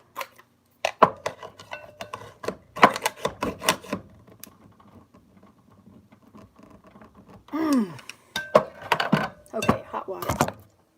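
A toothed metal jar opener grips and twists a jar lid loose in a home kitchen. Close, sharp clicks and clinks come in uneven bursts, with a brief voice partway through.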